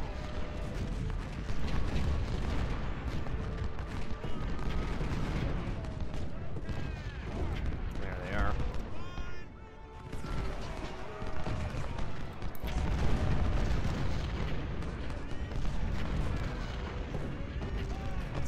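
Continuous battle gunfire and artillery rumble from the Civil War strategy game Ultimate General: Civil War at Second Bull Run, dense volleys rolling steadily throughout with a brief lull midway, voices faintly mixed in.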